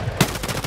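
Gunfire from a firefight in Escape from Tarkov: a sharp single report followed by a rapid string of quieter shots, loud and close with no talking.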